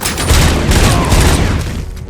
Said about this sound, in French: Ils balancent des grenades ces enfoirés en plus.